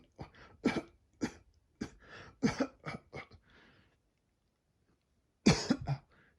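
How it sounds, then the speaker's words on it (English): A man coughs in a drawn-out fit set in a damp wine cellar, with a rapid run of harsh close bursts, a pause of near silence, then two or three more hacking coughs. "How long have you had that cough?"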